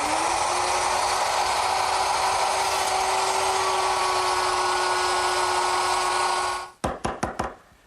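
A router cuts a dado in wood for a Shaker tall chest side, a loud steady high whine for several seconds, then winding down with a few sharp clunks at the end.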